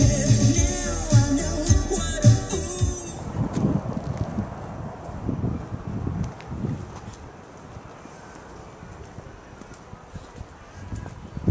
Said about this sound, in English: Wind whipping down the boardwalk.